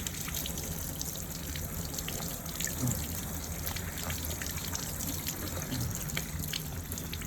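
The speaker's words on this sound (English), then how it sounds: "once you see that the water's coming out clean from the intake, it's pretty much telling you that your intake's clean already" Low-pressure tap water rinsing a cotton cold air intake filter from a Mercedes, a steady soft trickle and splash that runs continuously and fairly quietly throughout.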